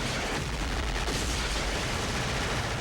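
A film scene from Predator with a prolonged, dense barrage of gunfire, loud and unbroken, with shots blurring into one continuous roar and no pauses.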